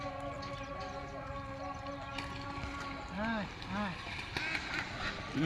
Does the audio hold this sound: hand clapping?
no